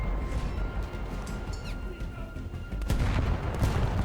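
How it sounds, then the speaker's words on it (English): Alternating ranging fire from the forward gun barrels of a Restigouche-class destroyer, HMCS Terra Nova, in a naval combat game, heard as a steady low rumble of repeated booms that grows louder and denser toward the end. "you can alternate fire with the barrels using ranging fire"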